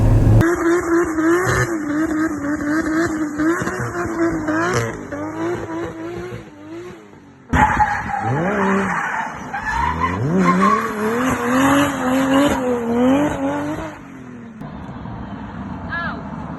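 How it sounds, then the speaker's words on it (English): Nissan Silvia S14 with a swapped 2JZ engine making nearly 700 horsepower, driven hard: a loud, close, sustained engine roar rising and falling through revs, with a brief lift-off dip midway and tire squeal mixed in. "in S-Body Sophies S14 with a 2J running nearly 700 horsepower"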